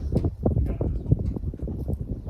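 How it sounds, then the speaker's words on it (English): Cows moving close by on a Colorado mountain trail, with irregular thudding hoof steps in a dense, steady cluster alongside low talk from nearby people. "Hi, cows."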